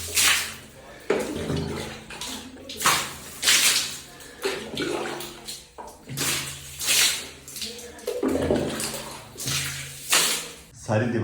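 Water is sprayed onto freshly built cement walls in bursts of hissing spray that come and go in waves, with a low steady hum underneath and people talking over it.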